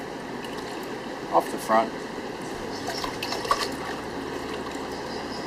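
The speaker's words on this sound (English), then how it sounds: "Swirl in your pan, bring everything to the front," Water sloshing and trickling in a gold pan as it is swirled outdoors while panning, a steady watery wash under someone speaking, with a couple of brief splashy accents.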